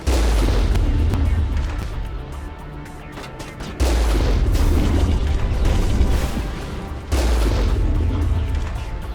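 Enemy weapon fire in Mass Effect, heavy booming blasts in three loud sustained waves of rumbling, crackling fire that swell and fade, with no talking.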